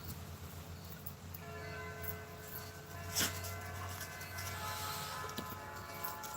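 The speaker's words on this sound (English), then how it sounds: "Those church bells are beautiful." Church bells ring at a distance, faint and steady under a low ambient hum, with a brief louder clack partway through.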